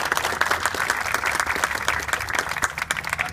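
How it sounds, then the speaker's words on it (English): Applause from an audience at a rally for domestic violence and breast cancer awareness, a dense, steady wash of clapping hands sustained for a few seconds with no talking over it. "And they all deserve another round of applause."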